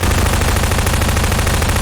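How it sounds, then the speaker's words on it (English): Rapid automatic SMG fire in Half-Life 2 Deathmatch, a dense, loud, unbroken burst of shots filling the whole moment with no speech. "You and your freaking SMGs."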